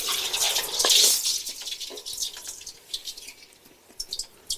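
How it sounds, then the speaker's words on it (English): Water poured onto a burning biochar fire hisses and sizzles, a burst of loud steam and spatter early on that settles into intermittent crackles and pops. "So we are ready to pour it on, and just be warned, it's going to get a bit sizzly."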